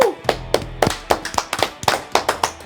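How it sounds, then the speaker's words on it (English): A small audience gives a round of applause for headliner Peacemaker: a short run of distinct, fairly close claps at a quick, uneven rhythm, sparse rather than a full crowd roar. "Can we give him a round of applause?"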